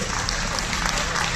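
An audience bursts into dense, sustained clapping at a stage drama on the life of M. S. Subbulakshmi at Mahati Kalakshetram in Tirupati, a steady wash of applause from a full hall.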